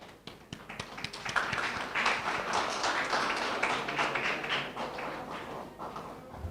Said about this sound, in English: because of the level of the applause